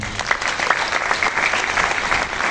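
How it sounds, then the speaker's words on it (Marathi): Steady applause from an audience at a business gathering, a dense even clapping that holds throughout the short stretch. "त्या व्यक्तीसाठी जोरदार टाळ्या"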